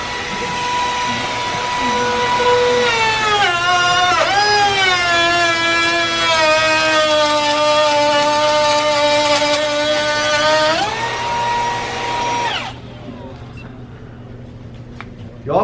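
Milwaukee router with a half-inch rabbeting bit cutting red oak, a loud high whine that dips as the bit bites into the wood, then stops abruptly as the brake engages, leaving a low hum.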